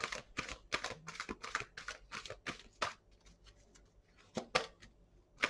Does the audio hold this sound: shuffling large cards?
yes